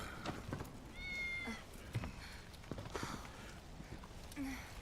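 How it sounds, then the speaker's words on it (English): A cat meows faintly a couple of times in a game, short tonal calls amid soft thumps and low background noise. "Cloud, Good kitty"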